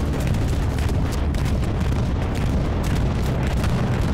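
Bombs in the World War II shooter Hell Let Loose, set at Stalingrad, pound in a dense, continuous barrage of heavy, rumbling booms that stays loud throughout with no pause.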